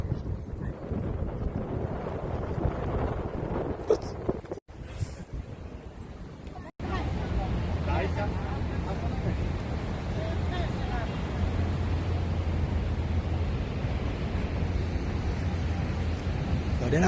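Niagara Falls roars as a steady, broad wash of rushing water, loud and continuous, mixed with wind buffeting the microphone. A voice talks over it in places.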